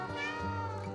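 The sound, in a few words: cat meowing in the video game Stray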